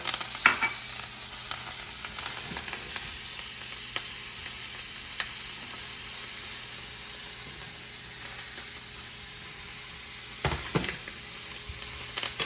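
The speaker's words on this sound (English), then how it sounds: "I don't want to burn the butter, I just want to brown it. So there goes the butter." Butter browning in a pan with garlic, thyme and rosemary gives a continuous loud sizzle and hiss, broken by a few sharp clinks and scrapes of a utensil against the pan.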